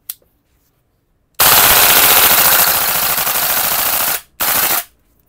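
An airsoft rifle fires on full auto, a loud close burst of rapid shots lasting nearly three seconds. After a short gap a second, briefer burst follows, with silence on either side.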